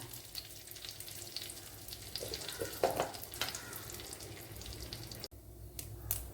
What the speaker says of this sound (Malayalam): ഇനി കടുക് ഇട്ട് കൊടുക്കാം.